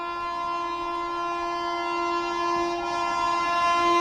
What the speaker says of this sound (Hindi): और यहाँ भुवनेश्वर दुरंतो को ओवरटेक करने जा रही है भुवनेश्वर न्यू दिल्ली तेजस राजधानी एक्सप्रेस